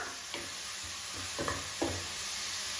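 Onions browning in a pan for Punjabi whole moong dal, a soft steady sizzle with a few scraping stirs of a spoon at irregular moments, close and fairly quiet.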